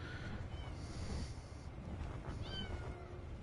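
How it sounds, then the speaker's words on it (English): A cat mews faintly in a couple of short, thin rising calls over a steady low background rumble. "I can hear a cat mewing."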